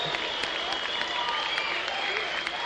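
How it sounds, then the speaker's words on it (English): A room full of soldiers on their feet clapping and cheering at a Thanksgiving gathering, a dense, continuous wash of close applause with crisp individual claps throughout. "Clapping, cheering, smiling"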